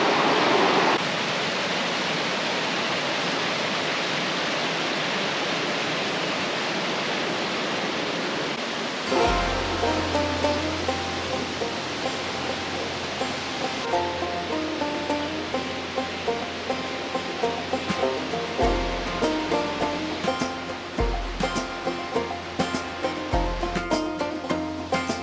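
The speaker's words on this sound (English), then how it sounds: "dipping our toes into the falls" The waterfall on Rose River in Shenandoah National Park pours in a constant, full rushing roar from nearby. Partway through, music starts playing over the unbroken sound of the falls.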